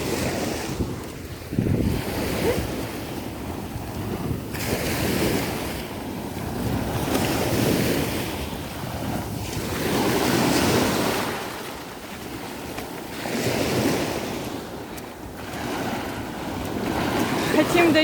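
Black Sea surf rolling onto a sandy beach in rhythmic swells while strong wind buffets the microphone, loud and close, with waves rising and receding every few seconds.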